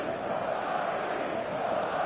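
Steady, dense roar of a stadium crowd in a football video game on match day, a continuous wash of cheering and chanting at even volume with no pauses.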